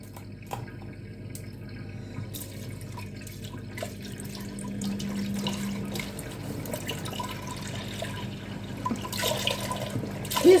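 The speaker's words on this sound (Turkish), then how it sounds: "Bir litre sütü de ekleyeceğim şimdi." A liter of milk is poured into a pot for baked rice pudding, a soft steady liquid pour running for several seconds, quiet and close, with light clinks at the start.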